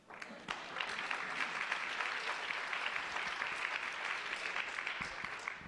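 Steady audience applause fills a hall at an innovators awards ceremony, dense and continuous, sustained at moderate distance with no voices above it.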